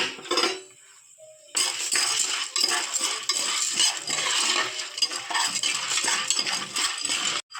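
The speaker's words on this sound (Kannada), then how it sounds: "ಉಪ್ಪು ಗರಂ ಮಸಾಲ ಚಾಟ್ ಮಸಾಲ ಹಾಗೂ ಎಲ್ಲ ಪಾಪ್ಕಾರ್ನ್ ಬೀಜಗಳನ್ನು ಹಾಕಿ ಚೆನ್ನಾಗಿ ಮಿಕ್ಸ್ ಮಾಡಿಕೊಳ್ಳೋಣ" Popcorn kernels with salt, garam masala and chaat masala are stirred in a pot, making busy metallic scraping and rattling clinks that run steadily after a short pause near the start.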